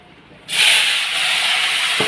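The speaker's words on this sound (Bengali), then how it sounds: "দিয়ে দিলাম বেগুনটা ভেজে নিই একটু লাল লাল করে" Eggplant pieces dropped into hot oil in a home kitchen pan, fried after fish, set off a sudden loud hiss about half a second in that holds steady and bright to the end, with no talking.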